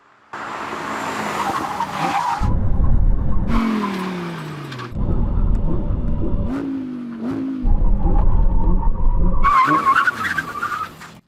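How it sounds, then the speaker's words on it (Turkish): An Audi R8 sports car brakes hard several times, its tires squealing loudly in long drawn-out bursts over the roar of the engine. "Pekala şimdi fren testine geçiyoruz."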